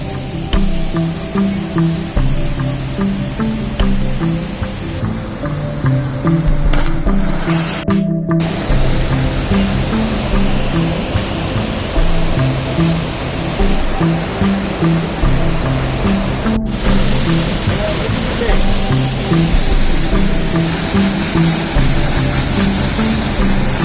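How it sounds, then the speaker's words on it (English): A large waterfall on the Four Waterfalls Walk in the Brecon Beacons roars in a loud, continuous rush of falling water, heard up close and steady for the whole stretch with brief handling bumps. "Waterfall number 2 is bigger than expected. It's still going from up here."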